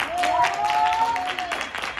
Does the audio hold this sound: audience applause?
yes